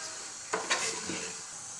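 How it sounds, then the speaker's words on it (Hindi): Cooking oil heating in a kadhai on a stove, giving a faint, steady low sizzle with a couple of brief louder stirring or bubbling bursts near the middle. "तो जी कढ़ाई हमने चूल्हे पर चढ़ा ली है। हाफ कप हमने कुकिंग ऑयल लिया है। ऑयल हमारा गर्म हो रहा है।"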